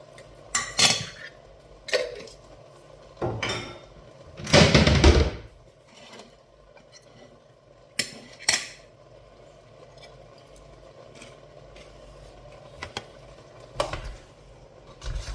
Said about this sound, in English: Stirring up this veg, and I believe it may be cooked.